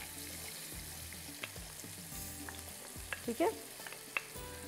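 Onion frying in hot butter in a pan for macaroni keema, a low, steady sizzle with stirring scrapes and a few small clinks, close but fairly quiet, with a brief spoken remark.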